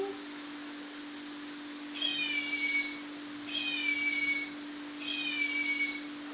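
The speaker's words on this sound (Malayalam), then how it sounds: "കുഞ്ഞു പൂച്ച കേണു." A kitten meows three times in drawn-out, crying calls, evenly spaced and close, over a steady electrical hum.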